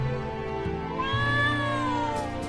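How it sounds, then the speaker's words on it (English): A house cat gives a single close, loud meow that rises and then falls in pitch and lasts about two seconds, heard alone without talk. "Yes, Kitty, I hear you"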